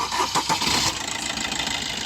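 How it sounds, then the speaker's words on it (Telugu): A Maruti Suzuki Dzire DDiS diesel engine cranks with a few quick turns, fires up and settles into a steady idle, heard close and clear. "మైల్డ్ వైబ్రేషన్తో అయితే స్టార్ట్ అయింది."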